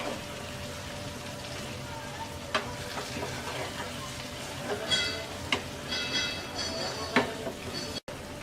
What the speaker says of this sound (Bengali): এবার আমরা একটু হালকা হাতে নেড়ে দিচ্ছি।